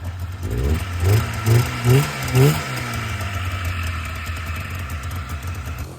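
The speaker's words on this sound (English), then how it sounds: "After about 100 pulls, it runs and on both cylinders." A snowmobile's two-cylinder engine, pull-started after many tries, running outdoors with a loud, uneven rumbling idle and a few rhythmic surges early on before settling into a steady drone.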